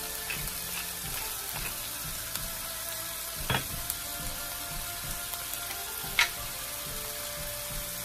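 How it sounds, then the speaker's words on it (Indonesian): Potatoes fry in a pan with a steady, close sizzle throughout, broken by a few sharp clinks and stirring knocks. "Jadi kita masak kentangnya dulu seperti ini."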